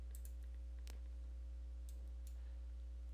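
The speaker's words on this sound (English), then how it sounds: "left click on that, and then left click on settings" Computer mouse left-clicks on a Windows 10 PC, a few sharp isolated clicks spaced out over a few seconds under a steady low electrical hum, close and fairly quiet.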